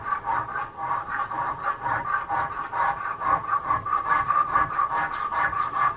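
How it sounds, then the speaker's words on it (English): Sandpaper rubs back and forth over a wooden Hawken rifle stock from a kit, in close, steady rhythmic strokes that keep going without a break. "Clean that up a little bit more with some sandpaper."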